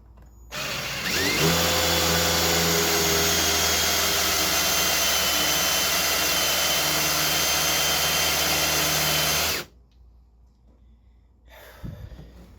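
Rocaris wood plug cutter spun in a drill at speed 2, a loud steady high-pitched whine that starts abruptly, runs continuously for about nine seconds, then cuts off, followed by faint handling noises.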